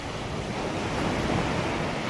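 Ocean waves at high tide on a white sand beach give a steady, broad wash of surf that rises slightly midway, with some wind noise and no voices.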